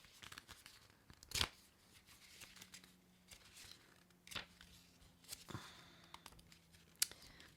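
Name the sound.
flipping through the pages of a booklet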